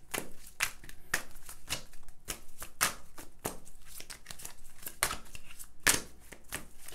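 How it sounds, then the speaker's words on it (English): Tarot cards are shuffled close up, producing a steady series of crisp, papery snaps and riffles in an uneven rhythm, with no talking. "Now I'm going to shuffle these cards"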